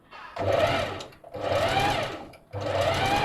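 A sewing machine stitching fabric in three sustained whirring runs separated by brief stops as the pedal is pressed and released, close and steady.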